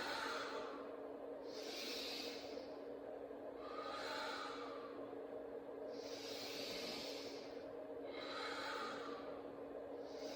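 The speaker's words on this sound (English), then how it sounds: "And then breathing out through the mouth." Repeated breaths blown out through the mouth during a breathing exercise paired with simple crunches, several airy exhales in a steady rhythm, close and clear with no talking.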